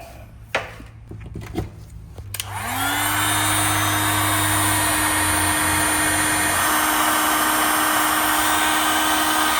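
A heat gun starts up after some handling clatter and runs as a steady loud whoosh with a high whine, used to shrink heat-shrink butt connectors on wiring for off-road lights. The tone shifts slightly partway through, no talking.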